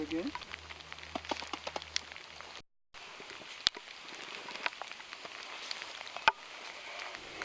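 Steady rain patters on leaves and surfaces in the Rwandan gorilla forest, with scattered louder drops and a couple of sharp knocks, briefly cutting out midway.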